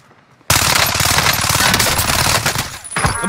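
Sustained rapid automatic gunfire in the Warzone video game bursts in suddenly after a brief quiet moment, loud and close, with dense repeated shots running to the end.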